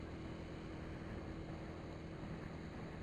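Constant low engine rumble mixed with heavy wind buffeting, like riding on a motorcycle at speed, steady and unbroken.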